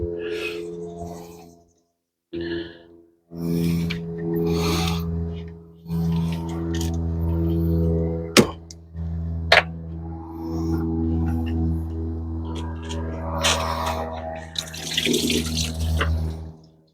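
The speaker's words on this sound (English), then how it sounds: "I'm going to remove the hose that goes to the thermostat." Coolant running and splashing as a radiator hose is pulled off the thermostat of a Toyota Prius Gen 3, a watery gush with drips and a few sharp clicks, loud and close.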